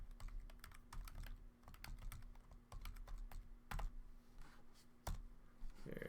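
Rapid typing on a computer keyboard to rename an item in software, a close, steady run of clicks and keystrokes over a low background hum, with no talking.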